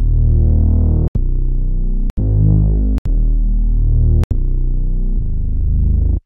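A drill beat plays with deep synth bass and sustained chords filling the low end, punctuated by a few sharp percussive hits, loud and continuous with no voices.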